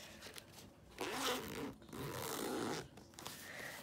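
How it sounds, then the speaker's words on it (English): A zipper runs along a card binder for trading cards as it is pulled open in two long rasping strokes with a short pause between, close and fairly loud, with no voices. "it has a zipper"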